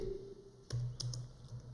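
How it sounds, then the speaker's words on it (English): A few quick keystrokes on a computer keyboard while entering a column header in an Excel spreadsheet, close and moderately quiet, with a steady background hum. "here we will type days on market"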